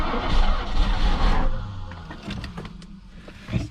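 Mercedes W126 560SEL engine, back running after 12 years off the road, idling roughly with a loud, uneven rumble that fades a little, followed by a few faint clicks and a short knock near the end.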